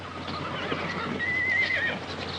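A horse neighs in a 1946 Western film scene, a loud, wavering whinny rising over faint background noise, with a few soft hoof clops.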